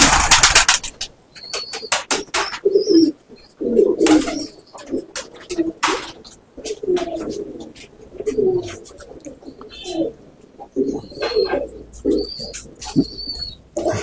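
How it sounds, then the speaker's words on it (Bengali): Rampuri pigeons cooing close by in repeated low throaty bursts, mixed with bright chirps and a few sharp wing claps and flutters as pairs are released. "রামপুরি পায়রা"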